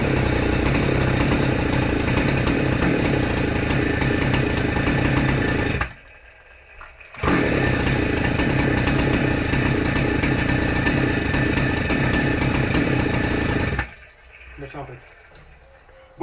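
A freshly serviced MT9999 chainsaw with a new spark plug, needing carburetor adjustment, runs loud and steady up close, cutting out briefly around six seconds before restarting, then dropping away near the end to a low sputter.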